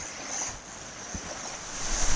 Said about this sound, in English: This is called 3 Layers Waterfall.